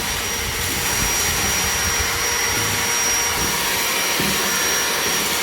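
A vacuum cleaner roars continuously and loudly, close by, as it sucks debris off a tray.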